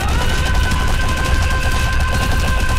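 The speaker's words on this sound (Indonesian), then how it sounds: "Terus gue tembak dia ya. Nail shot." Rapid Nail Shot fire from the Tusk stand in the Roblox game Your Bizarre Adventure, a dense, continuous burst of loud machine-gun-like shots with no talk over it.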